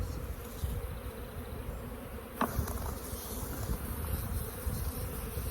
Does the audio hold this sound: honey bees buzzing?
yes